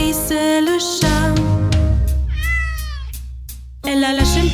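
Cartoon cat meows sung within a French children's nursery-rhyme song, several stylized meows over backing music, with sung vocals before and after.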